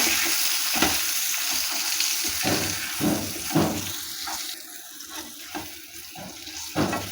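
Green chilies stirred in a pan with coarsely crushed fennel and spices, giving a steady soft sizzle broken by repeated scraping and stirring knocks, close by with no talking.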